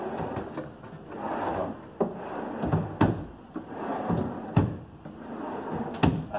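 White 18 mm wardrobe drawers on telescopic slides are pulled open and pushed shut again and again, each smooth rolling glide ending in a sharp wooden knock, close and clear.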